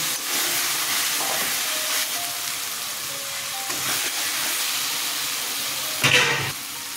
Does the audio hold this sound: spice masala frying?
yes